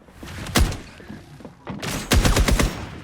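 Gunfire in the video game FragPunk, including a sniper shot: one sharp loud crack, then after a short lull a rapid burst of several close, punchy shots, with game sounds between.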